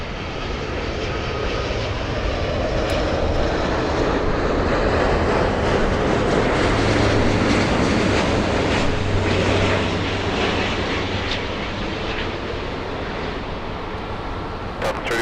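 A large airliner on approach into LAX, a Delta flight arriving from Haneda, gives a steady, loud jet roar that swells and fades slightly across the span, with broadband rumble and no clear talk over it.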